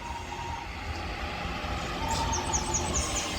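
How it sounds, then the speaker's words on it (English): A Class 323 electric train rumbles into Heaton Chapel station steadily with a low motor hum, a faint tonal whine and some high squealing near the end, loud and close. "lovely train motor"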